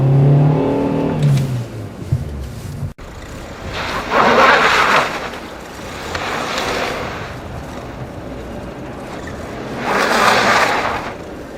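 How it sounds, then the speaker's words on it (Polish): A car pulling away on a winter road as the driver gently adds throttle and eases the clutch, the engine rising in several swells of revving, moderately loud with no talk over it. "lekko dodaję gazu, a także delikatnie zwalniam sprzęgło"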